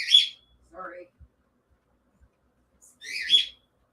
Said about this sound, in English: sounds like my bird is pretty upset